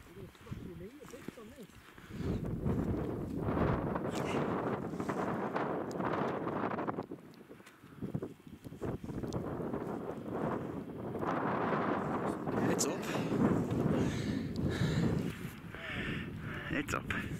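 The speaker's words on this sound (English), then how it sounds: "Wind comes and goes." Strong gusts of wind batter the microphone on the rocky summit of Helvellyn during a wild camp, roaring loudly and steadily with brief lulls, while people talk underneath.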